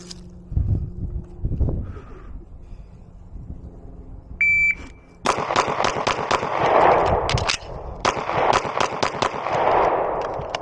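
Beretta PX4 pistol firing at 7 yards, a few shots, a pause for a reload, then a quicker string of sharp cracks, loud and close with a brief electronic beep between, no talk.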